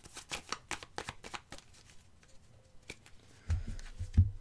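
Tarot cards are shuffled by hand in a quick series of crisp riffling flicks, close and quiet, followed by a few softer thumps as the deck is handled and tapped.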